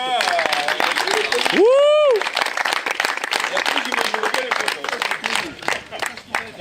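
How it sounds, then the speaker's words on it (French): An outdoor gathering of anglers at Lac du Salagou applauds a named participant, a lively spread of clapping with a rising whoop or whistle early on and voices talking throughout. "vous pouvez applaudir Maxime"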